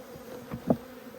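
Bees hum close by during an apiary inspection around hive feeders, a brief steady buzz with two small louder swells as individual bees pass near.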